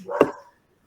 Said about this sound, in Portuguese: vocês estão ouvindo aqui o cachorro latindo